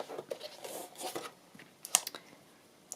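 Scissors snipping paper away from the spine of a handmade accordion journal, producing soft crisp cuts and rustling, close and faint, with no speech.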